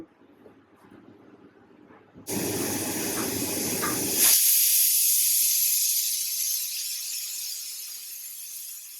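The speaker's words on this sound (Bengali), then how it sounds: "আমার 5টা সিটি দেওয়া হয়ে গেছে" Pressure cooker on the stove blowing off steam while mutton curry cooks, a loud steady hiss that bursts in after a quiet start and grows harsher midway, then holds for several seconds with no talking.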